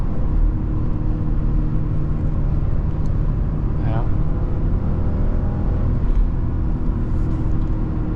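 A 2022 Porsche Cayenne engine picks up speed under moderate throttle, a steady loud low rumble filling the cabin throughout, with a brief rising whine partway through.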